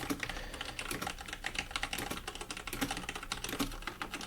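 Fast, continuous tapping on a computer keyboard, close and crisp, with an even rhythm of many small keystrokes and no talking.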